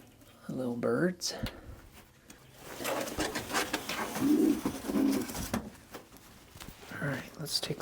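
Soft, throaty coos of Swallowtail pigeons sound close by in a few separate bursts, mixed with light rustling and shuffling.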